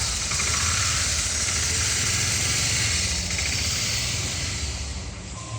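A Suzuki DR650 motorcycle engine runs steadily at idle nearby, a loud, constant, rough drone with vibration and no talking, easing slightly at the end.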